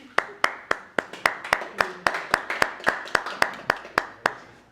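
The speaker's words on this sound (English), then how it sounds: "Everybody give Esther a round of applause." Applause from a gallery artist-talk audience comes as a steady run of about seventeen sharp, evenly spaced claps, close and crisp, like one or a few people clapping in rhythm.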